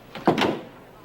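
A door opens abruptly as someone walks into a room, giving a short wooden clatter and knock that fades within half a second, close and moderately loud.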